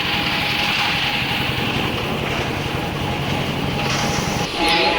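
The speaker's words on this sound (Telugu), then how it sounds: "భీమవరం జంక్షన్ నుంచి నిడదవోలు జంక్షన్ వరకు వచ్చే మెమో ట్రైన్ ఇది." A MEMU passenger train on the Bhimavaram–Nidadavolu line rumbles steadily from inside, a loud continuous roar of wheels and motors, with a short swell near the end.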